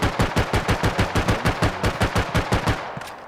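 Rapid automatic weapon fire from an FPS game, Star Atlas: a burst of about twenty evenly spaced, loud shots in quick succession with no talk, ending in a short fading tail.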